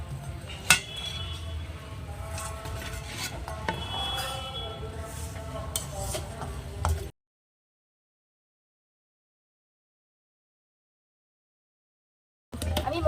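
Freshly fried cauliflower pakoras lifted from the pan onto a plate, with light clinks and scrapes of utensil against metal and plate for several seconds, then an abrupt silence before a brief return of kitchen noise.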